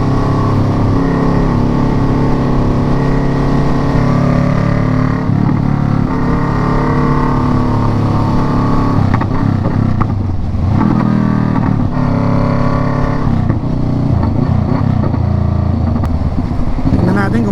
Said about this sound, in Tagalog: Riding our motorcycle.